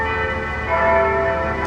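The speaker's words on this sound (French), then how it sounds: "qui lui aussi avait un autre carillon" Carillon bells of Saint-Antoine le Grand ringing in Lebanon, a sustained wash of overlapping tones that swells slightly midway through, steady and fairly loud with no voices.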